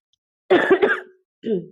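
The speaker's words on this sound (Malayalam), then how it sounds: "ചെറിയതായൊരു ചുമയുണ്ട് എനിക്ക്" One person gives a short, close cough of two or three throaty bursts, then a brief voiced cough-like sound follows after a pause.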